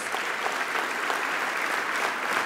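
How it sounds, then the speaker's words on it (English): A crowd at an MLK event claps in sustained, dense applause for a governor that holds evenly throughout. "Give the 40th governor another round of applause, please"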